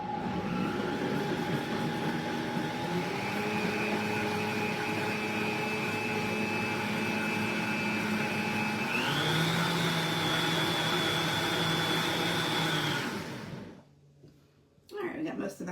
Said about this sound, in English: So let's put the top on this blender and blend it up